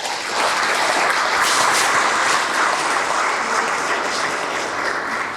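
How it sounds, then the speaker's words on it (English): Audience at a State of the City 2024 address gives a round of applause, loud even clapping that swells slightly then tapers off toward the end. "Let's give them all a round of applause."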